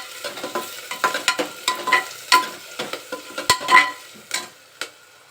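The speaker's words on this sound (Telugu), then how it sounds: "ఆనియన్స్ వేసి ఒకసారి కలిపేసి కొంచెం పచ్చి కరివేపాకు వేస్తున్నానండి." Onions and fresh curry leaves sizzle in a hot pan while a spoon stirs them, giving repeated scraping strokes over crackling oil, close and fairly loud, for mutton curry.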